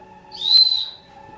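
A single short, shrill whistle blast from a whistle on a shepherd's stick rises and fades within about half a second, clear and close against a quiet background.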